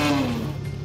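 The Scorpion car in the Roblox game Jailbreak starts up with a loud, close engine whir and a falling tonal hum that settles into a steady idle.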